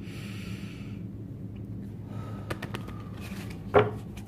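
A single deep breath drawn in sharply through the nose near the end, close and fairly soft, over a quiet room hum with a few faint clicks before it.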